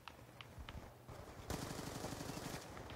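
Rapid automatic gunfire rattles in the Call of Duty: Black Ops 2 video game, fairly faint and distant, a dense burst of shots that intensifies midway.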